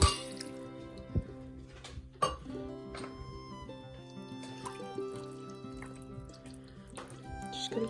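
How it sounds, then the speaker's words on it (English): Chicken broth pours into an Instant Pot as a quiet, continuous trickling splash, with a few faint clinks and taps. "so I'm gonna add in my chicken broth"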